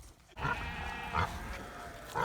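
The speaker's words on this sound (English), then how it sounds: "I hope the pigs will follow me back in" Pigs on a snowy farm grunt in short repeated bursts, three distinct grunts spaced about a second apart, close and fairly loud over steady low background noise.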